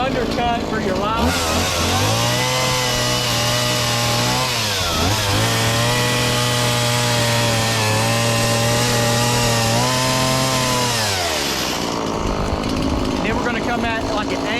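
Chainsaw cutting an undercut into a wooden owl carving, the engine revving loud and close for about ten seconds with a steady droning pitch that dips once midway, then dropping back to idle.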